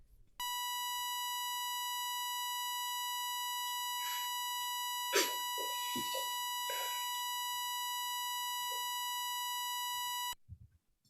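A 1 ms pink noise file looped into a steady, buzzy electronic tone whose pitches stack evenly every 1000 Hz, sounding for about ten seconds and then cutting off abruptly, with faint scattered sounds partway through.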